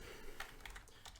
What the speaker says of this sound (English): can just type in virus scan